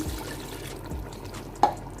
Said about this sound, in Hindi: तो अब मैं इसमें पानी ऐड करने लगी हूँ।